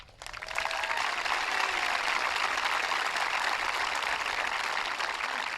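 Sustained, even applause from a crowd at a school recognition ceremony swells in after a quiet start and holds at full strength, loud and close, with no talking over it.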